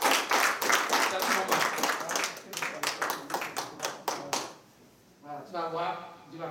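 A church congregation at a Saturday worship service claps in a steady, rapid rhythm with voices calling out over it, then the clapping stops and a single voice sings or chants alone near the end.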